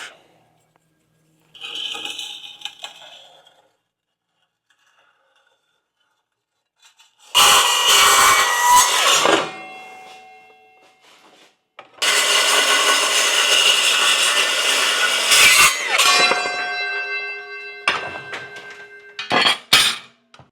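Steel plate for a cart build is cut with a metal-cutting tool, heard as two long, loud bursts of harsh rasping and grinding separated by quiet gaps, with lighter scraping metal handling at the start and end.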